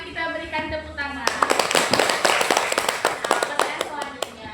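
Students in a classroom break into a burst of brisk, scattered clapping right after a teacher's short spoken prompt, the applause carrying on loud and close for several seconds.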